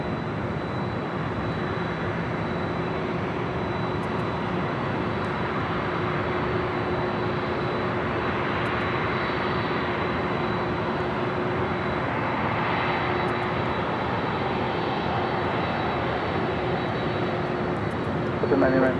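A Delta Boeing 767 heavy jet airliner taxiing toward runway 24 left at LAX, a steady distant engine whine and rumble held throughout, with faint radio chatter underneath.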